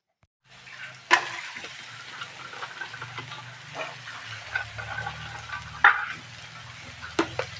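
Moringa drumsticks and reddened fried onions sizzle in a pan as they are stirred. A constant low frying hiss is broken by occasional sharp clinks of the utensil against the pan, and no one speaks.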